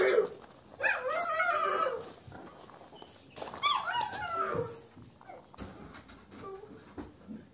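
A one-year-old Georgian nagazi shepherd dog whimpers while playing, giving high, wavering whines in a few short bursts close by, with soft rustling and quiet gaps between them.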